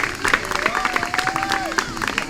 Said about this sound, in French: vous pouvez applaudir Pierre, vous pouvez applaudir Verlaine